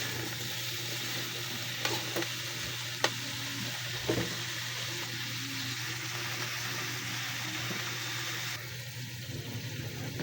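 Coconut milk and vegetables cooking in a wok for ginataang gulay, with a steady sizzle and soft scraping stirs running the whole time, plus a few sharp clinks of the utensil against the pan.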